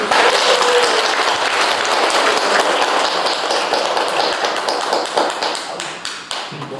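A large lecture-hall audience at a Buddhist temple college breaks into loud, dense applause, many hands clapping close together, then thinning and tapering toward the end.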